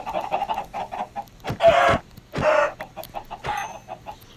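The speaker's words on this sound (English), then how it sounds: "Just spawn in a bunch of chickens." Chickens clucking in the video game Minecraft, a run of repeated short clucks with a few louder bursts in the middle, close and clear with no talking.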